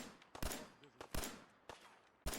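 Gunfire in the Fallout 4 video game: several sharp shots in irregular bursts, fairly quiet, with faint low background noise between them.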